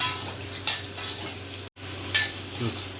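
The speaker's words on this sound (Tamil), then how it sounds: "மிளகாய் தூள் கொஞ்சம், மிளகு தூள், உப்பு போட்டு நல்லா கொஞ்சம் நேரம் கொஞ்சம் வறுத்தரலாம்" Egg frying in a pan with chili powder, pepper and salt for a spicy egg dish gives a soft, steady sizzle. Scraping stirs come in bursts, and there is a brief silent break midway.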